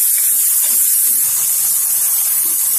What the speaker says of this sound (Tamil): இப்ப தக்காளி பாதி வதங்கிட்டு இருக்கும் போது கொஞ்சம் உப்பு போட்டுக்கிறோம்.